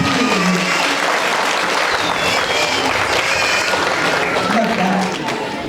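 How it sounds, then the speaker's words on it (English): Loud, sustained applause from a community audience at a charity's 20th anniversary celebration, a dense wash of clapping that runs steadily throughout. "Come on, a big round of applause for them."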